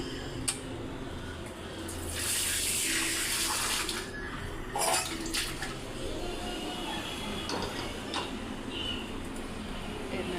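Tap water runs into a kitchen sink while food is rinsed, a steady splashing gush that swells louder for a couple of seconds, then continues with light clatters.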